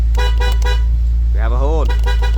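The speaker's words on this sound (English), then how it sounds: "We have a horn." The horn of a BMW E46 330Ci honks in a few short close toots over a loud, constant low hum, with a voice briefly audible.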